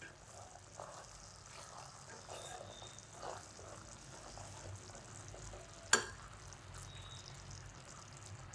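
Sweet sev being stirred in a pan over a low gas flame, a soft steady scraping with faint sizzling, with one sharp clink near the end.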